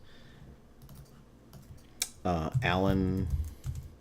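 Fingers type on a computer keyboard into Notepad, making a soft, quick patter of key clicks at close range before a voice briefly speaks over them.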